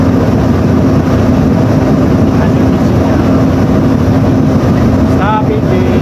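A ship's engine runs during slow astern maneuvering, a loud, steady, low drone filling the whole stretch, with a brief faint chirp near the end.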